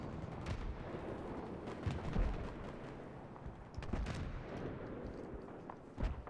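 Sniper and battlefield fire in Battlefield 3: sharp, distant cracks and thuds go off irregularly through a rumbling war-zone din, fairly faint, with no one speaking.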